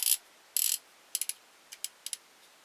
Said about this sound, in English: then we'll put a clamp on it